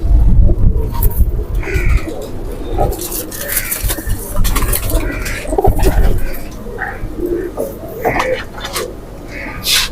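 Golden Kamagar pigeons cooing up close, repeated throaty coos in an irregular rhythm among rustling and fluttering, with occasional clatter in the background.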